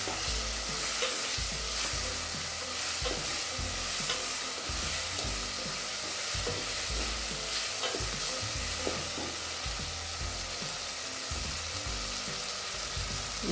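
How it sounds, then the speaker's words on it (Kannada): Turmeric being stirred into a frying dal and tomato mixture for bele saaru, a loud, close, steady sizzle with repeated scraping stirs of a spoon in the pan, with no talking. "ಅರಿಶಿನ ಪುಡಿ ಹಾಕೊಂಡ ನಂತರ ಒಂದು ಸತಿ ಚೆನ್ನಾಗಿ ಈ ರೀತಿಯಾಗಿ ಕಲಿಸ್ಕೊಬಿಡಿ"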